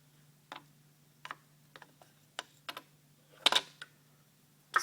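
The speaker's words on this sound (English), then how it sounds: "we just do it up with a spanner" A spanner tightens the bracket bolts on a power steering pump for a Ford six-cylinder OHC engine, giving sparse, sharp metallic clicks and taps spaced irregularly over a quiet background hum.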